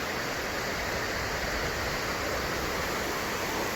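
A river near Pico de Orizaba in Mexico rushes on in a dense, even wash of flowing water, steady and close.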